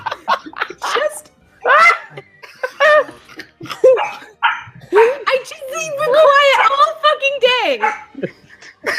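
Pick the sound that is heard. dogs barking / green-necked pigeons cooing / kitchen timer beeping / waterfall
dogs barking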